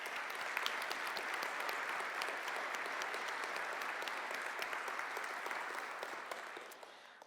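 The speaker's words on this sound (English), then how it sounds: "Let's give her one more round of applause." An audience at a Faith Forward 2025 conference claps steadily for the speaker Kara, a thick, even round of applause at moderate distance that holds throughout and tapers slightly at the end.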